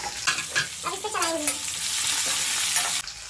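Garlic dropped into a hot pan while cooking chicken, a continuous frying sizzle with stirring clatter and a brief voice over it early on, ending with a quieter hiss.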